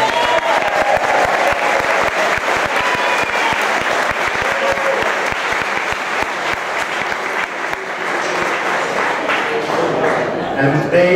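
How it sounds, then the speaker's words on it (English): A large crowd at a Citroën Rendezvous 2015 car gathering breaks into sustained, loud applause with scattered cheers, a dense wash of clapping that holds steady for the full stretch before easing slightly near the end. "I think they deserve a round of applause."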